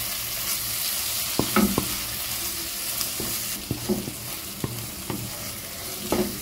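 Scrambled egg with spices is stirred in a hot frying pan, a constant sizzle broken by several distinct scrapes and clacks of the utensil against the pan, close and fairly loud, with no talk.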